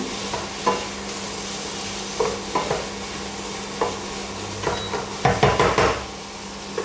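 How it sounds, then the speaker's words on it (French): A pan of ratatouille sizzles as tomatoes go in, a steady frying hiss broken by scattered stirring knocks and spoon-against-pan clatter that bunch together near the end. "je vais rajouter mes tomates. Pour donner vraiment du jus à la ratatouille."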